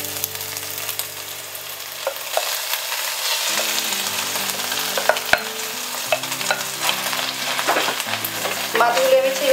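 Fish pieces fry in a pan of hot oil with a busy, crackling sizzle close by, broken by repeated utensil clinks and scrapes as they are stirred, growing a little louder toward the end.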